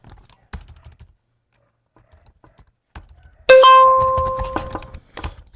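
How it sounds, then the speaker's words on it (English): A software notification chime sounds once, loud and sustained with clear tones, right after a timesheet approval is clicked in a cloud HR management system. Mouse clicks and keyboard taps are heard before it. "So we heard that notification sound means the approval has been set."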